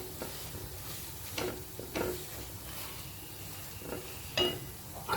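Red chili powder being stirred into matki (moth bean) curry masala in a pan, with soft scraping strokes over a low sizzle at a steady, quiet level.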